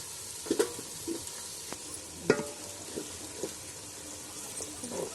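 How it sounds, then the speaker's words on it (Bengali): Onions sizzle softly in a pan as chicken biryani is prepared, a faint frying crackle broken by a few clinks and stirring knocks. "পেঁয়াজটা ভাজা ভাজা হয়ে এসছে"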